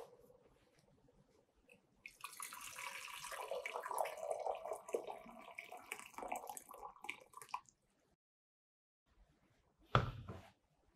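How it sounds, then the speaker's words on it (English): Hot water is poured into a large beaker for a science lesson, a steady splashing pour lasting several seconds before it stops, followed by a brief clatter of glass, faint and close. "I'm going to pour some hot water onto this beaker."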